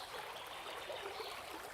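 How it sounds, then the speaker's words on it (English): A gentle brook flows in a steady, soft trickle and wash of water, continuous and even, with no voices over it. "Just absorb all the energy of being by the gentle brook."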